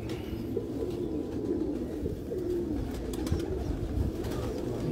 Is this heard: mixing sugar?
no